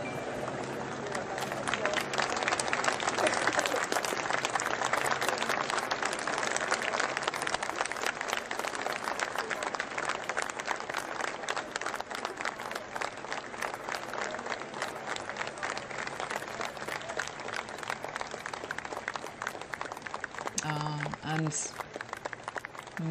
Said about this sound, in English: many, many people clapping as the cortege goes past